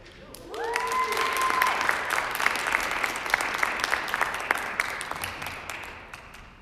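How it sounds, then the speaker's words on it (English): An audience at a high school athletics signing ceremony applauds steadily for several seconds, dense even clapping at moderate distance that tapers off at the end, with a brief tone at the start. "give both Erin and Ainsley a quick round of applause"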